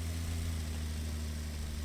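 Tractor engine from Pure Farming 2018, a low steady idling rumble with a constant hum, fairly quiet and alone.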